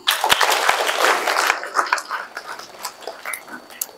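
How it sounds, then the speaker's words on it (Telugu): A classroom of children claps their hands, a burst of quick overlapping claps that thins out into scattered claps and faint chatter. "క్లాప్."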